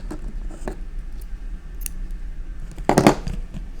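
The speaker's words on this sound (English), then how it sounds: "Got scissors here." A pair of scissors snips once close up, a quick crisp cut through crochet yarn after some faint handling sounds in a quiet room.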